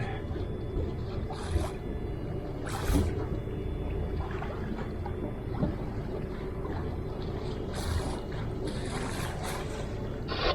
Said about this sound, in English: you might hear our motor running right now